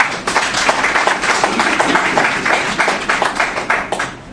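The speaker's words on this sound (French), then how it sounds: "Un applaudissement pour M. Ba." An audience at a French-language activity report presentation applauds: dense, steady clapping from a roomful of people, close and fairly loud, holding throughout before thinning at the end.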